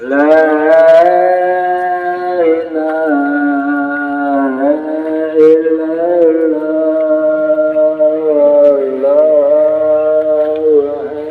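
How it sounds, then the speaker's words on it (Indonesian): Cattle lowing as livestock readied for a ritual sacrifice, a long sustained harmonic moo that wavers in pitch, loud and close, running nearly continuously with faint background voices. "Iki sapi ini sing arep dikorban."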